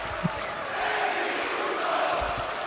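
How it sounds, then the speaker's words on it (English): A wrestling arena crowd roars and cheers in a steady, dense wash of many voices, loud and continuous throughout with no single voice standing out. "Oh, the crowd sure loves him."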